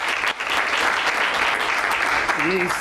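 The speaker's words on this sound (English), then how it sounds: "Let's give a round of applause to the DG" A room of colleagues at a farewell function gives a round of applause, steady dense clapping from many people close by, with a brief voice rising over it near the end.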